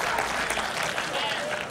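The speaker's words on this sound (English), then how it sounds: "Give God a hand for simplicity. Come on, clap your hands." Church congregation clapping hands together during a sermon, dense continuous applause from a large crowd filling the hall, steady and loud throughout.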